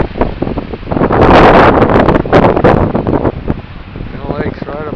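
Strong wind gusts buffet the microphone on a creek hike near a waterfall, a loud, continuous roaring rush that swells and eases, with a voice briefly near the end.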